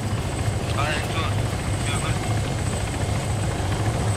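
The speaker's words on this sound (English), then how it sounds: "masuk dalam chopper sekarang" A helicopter drones steadily in the background throughout, a constant low rotor hum with voices talking over it.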